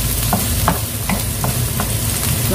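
Onions sizzle loudly in a hot pan for a pork empanada filling, with a spatula scraping and stirring at a steady pace every half second or so.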